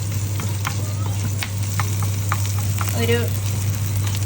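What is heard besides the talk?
ginger being sautéed in a pan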